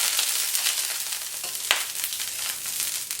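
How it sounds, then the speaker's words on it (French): Virgin coconut oil sizzles on a greased plancha griddle, a close, steady hiss with a few sharper crackles and one distinct pop, no voices. "je vais graisser la plancha"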